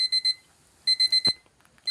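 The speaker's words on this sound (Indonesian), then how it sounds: "Oke, ada suara alarm." An alarm clock in a video game rings with bright electronic beeps in two short bursts separated by a pause, with a dull thud between them.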